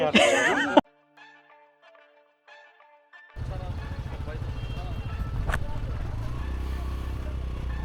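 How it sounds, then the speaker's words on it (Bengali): A Honda XDV motorcycle engine hums steadily after a brief voice and a quiet pause, running continuously at close range. "বাইক তো চলতেছে"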